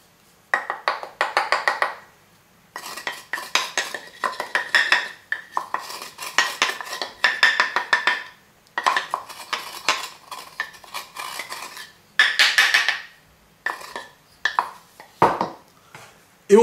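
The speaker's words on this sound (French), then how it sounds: "on remue avec une cuillère en bois" A wooden spoon stirs bokit dough (flour with coarse salt) in a bowl, giving repeated close scraping and knocking strokes in uneven bursts, with brief pauses between rounds of mixing.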